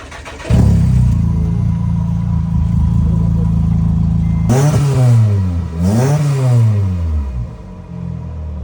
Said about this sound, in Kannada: Nissan RB32 engine. ಇದರಲ್ಲಿ ಕಂಪನಿಯಿಂದಾನೆ ಟ್ವಿನ್ ಟರ್ಬೋ ಬಂದಿದೆ.